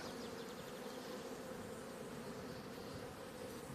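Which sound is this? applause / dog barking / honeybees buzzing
honeybees buzzing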